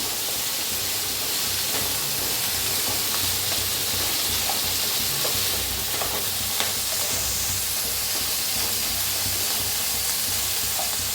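Peas frying in a pan for masala rice give a steady, loud sizzle and hiss, with light stirring scrapes throughout and no talking.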